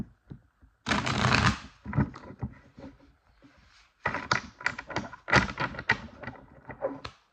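Tarot cards are shuffled close by: a long riffling burst comes first, then after a short pause several quick rounds of crisp card flicks and taps.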